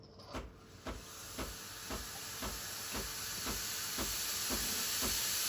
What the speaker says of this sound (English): When you hear the pump pulsating or pumping, that means the steam pressure has started.